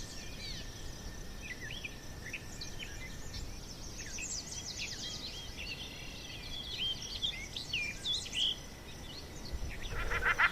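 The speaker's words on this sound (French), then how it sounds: "Cet espace de 230 hectares accueille au printemps des colonies importantes d'oiseaux" Colonies of birds, shelducks and black-winged stilts among them, call all at once in a 230-hectare nature area on Île de Ré in spring: dense overlapping chirps and piping calls over a steady wash of outdoor ambience.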